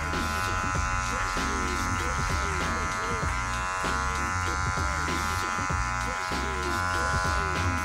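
Electric hair clippers buzz continuously up close, with uneven changes in pitch and texture as they cut through hair.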